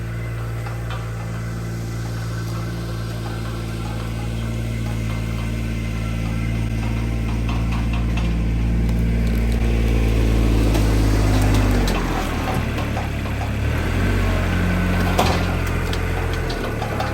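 A Kubota tractor diesel engine runs close by with a steady low idle throb, rising briefly in the middle before settling back to a rough, knocking idle outdoors near a wood splitter.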